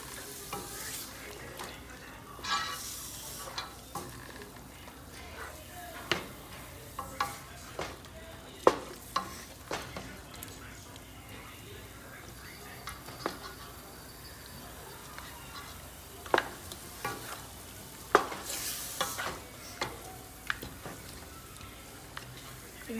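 Oxtail pieces frying in a pot for Dominican-style stew, with a steady low sizzle under repeated sharp clinks and scrapes of a utensil turning the meat, close and moderately loud.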